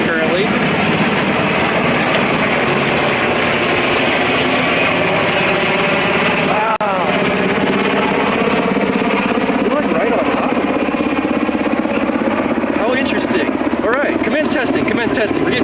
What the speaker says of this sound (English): I bet you they're PG&E choppers doing lifts